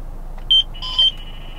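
A radar detector picks up radar and sounds two short, bright electronic beeps about half a second apart, close and clear over a quiet background.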